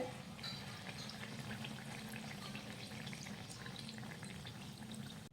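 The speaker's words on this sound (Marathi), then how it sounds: "पुरी दोन्ही साईडने आपण व्यवस्थित तळून घेऊयात" Puri frying in hot oil, a soft continuous bubbling sizzle with fine crackles, faint and steady throughout, with no voices.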